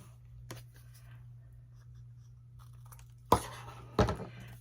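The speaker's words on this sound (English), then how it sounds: "And then we are going to cut off the excess." Excess paper or vellum being cut off during a pocket-making craft: two sharp, close snips about a second apart over a steady low electrical hum, with no talking.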